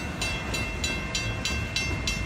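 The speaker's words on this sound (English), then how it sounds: "I said a big train." A big train passing close by, a loud continuous rumble with rhythmic clickety-clack wheel beats repeating about every third of a second, no talking.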